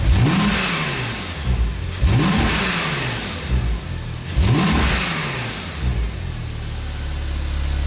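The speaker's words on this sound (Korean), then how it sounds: "배기는 이제 뭐 아무래도 터보 차량이다 보니까 굉장히 좀 약간 가래 낀 그런 이제 성향의 사운드가 나오고요" A turbocharged car's exhaust roars through three quick revs, each rising and falling, with a raspy, gurgling tone and steady idle between them.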